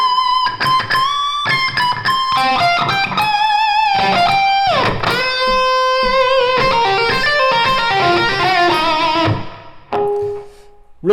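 Electric guitar plays a melody lick from a guitar solo: a run of sustained, bent lead notes that rings out loud and alone for about nine seconds before a quieter trailing note.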